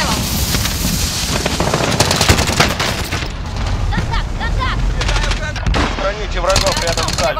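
Dense machine-gun bursts and gunfire rattle continuously through a downtown firefight in Call of Duty: Warzone, loud and close, with radio-style voices calling out over the shooting.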